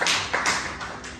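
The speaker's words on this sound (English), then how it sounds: "Clap your hands" A few quick, sharp hand claps ring out in a classroom, about four separate slaps spaced unevenly over a second, close and clear with no talking.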